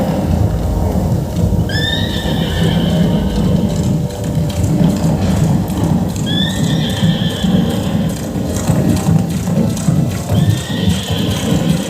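A horse gallops with steady, rhythmic clip-clopping hooves, loud and close, and whinnies three times at even intervals over the running beat.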